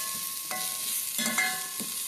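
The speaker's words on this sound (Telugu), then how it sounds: "ఆనియన్స్ వేసి బ్రౌన్ కలర్ వచ్చే వరకు ఫ్రై చేసుకోవాలి" Onions fry in oil until brown for an egg curry, giving a soft, steady sizzle. Several brief scrapes of a spoon stirring the pan sit on top, close by, and there is no talking.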